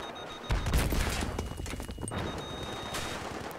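Bursts of gunfire in the video game Battlefield 3, a loud volley starting abruptly and then continuing as a dense rattle of shots at steady volume, with no talk over it.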